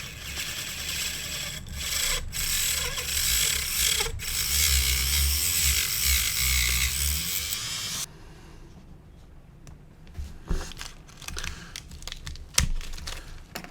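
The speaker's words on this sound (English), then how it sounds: "I'm going to use, as I said, this cutting disc in the motor tool" Motor tool fitted with a cutting disc slicing through a plastic sprue gate on an Airfix 1/48 Fairey Gannet model kit, a steady close grinding whir for several seconds that stops abruptly, then scattered light clicks and handling noises.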